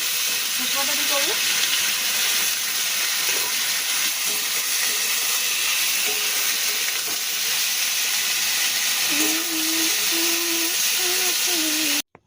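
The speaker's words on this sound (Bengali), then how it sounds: "পটল আলু ভাজা বসিয়ে দিয়েছি" Pointed gourd and potato fry in a pan with a steady, loud, broadband sizzle and hiss that fills the whole span, while a faint voice murmurs underneath.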